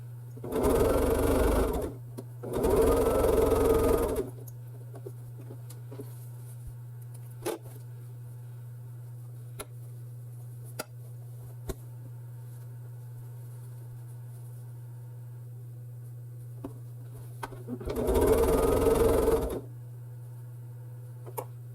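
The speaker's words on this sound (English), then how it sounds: "So basically what I'm doing is making a 9-patch, and then I'll sew the 9 patches together." Sewing machine stitching quilt nine-patch blocks in three short, fairly loud bursts of rapid whirring, separated by long pauses with a steady low hum and occasional soft clicks of handling fabric.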